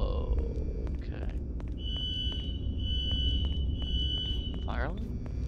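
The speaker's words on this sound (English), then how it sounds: "Fire alarm?" A fire alarm in Garry's Mod sounds a steady high electronic tone with repeated beeps, heard under continuous talking and a low background rumble.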